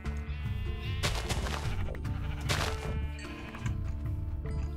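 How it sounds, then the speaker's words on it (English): Sheep bleating in the Minecraft video game as a player attacks it, short bleats mixed with hit sounds over continuous game music, fairly loud and steady throughout. "I'm gonna kill the sheep."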